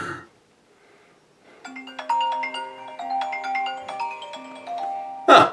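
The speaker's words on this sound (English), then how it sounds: "Huh, phone call." An in-game phone in Five Nights at Freddy's rings with a rapid chiming electronic melody of overlapping tones, clear and close, ending in a sharp click.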